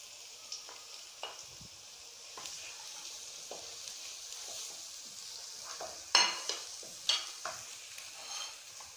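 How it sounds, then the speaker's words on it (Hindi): Two tomatoes go into a frying pan while stuffed apple gourds (tinday) cook, giving a low steady sizzle with scattered stirring scrapes and a few sharper clinks near the end. "अब मैं इसमें जो है वो 2 टमाटर शामिल कर दूंगी"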